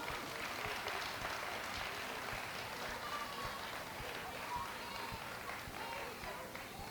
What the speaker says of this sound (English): the teachers and the principal deserve a round of applause